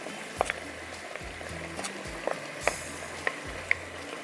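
Chicken and onion go into a hot pan with bay leaf for a Pakistani tomato chicken curry, sizzling steadily up close with sharp clicks and scrapes of stirring over the frying.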